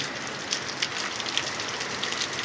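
Steady evening rain falls in a dense, even hiss, heard from inside a house, with a few louder drops pattering on a nearby surface.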